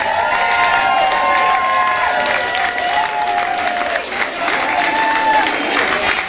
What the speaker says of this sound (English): Let's keep that round of applause going